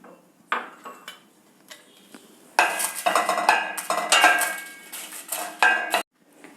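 Dried vattal is tossed into a pan and stirred, sharp clattering metal scrapes and clinks in bursts, close and fairly loud, with no voices.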